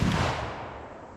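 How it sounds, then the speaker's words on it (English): A single .45 Colt blackpowder revolver shot, a 255 grain bullet fired into a wood pile about 20 to 25 yards away, bursts loud and broadband at once, then rolls off into a fading echo with no voices. "let's shoot over here into this wood pile at about 20-25 yards"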